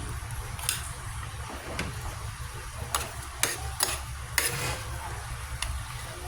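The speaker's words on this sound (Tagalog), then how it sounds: "And then, set lang natin siya na saute" Chicken sautéing in a pan for chicken sinampalukan, a soft steady sizzle with occasional sharp clicks and scrapes of utensils against the pan, moderately close in a noisy kitchen.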